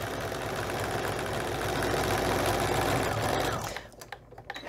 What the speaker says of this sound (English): I'm just gonna sew.